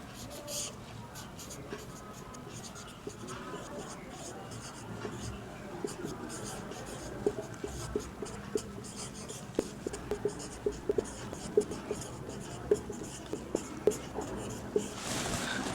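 A pen scratches across paper as handwritten math is worked out, soft close strokes and small taps running steadily at low volume, with faint murmured speech in the background.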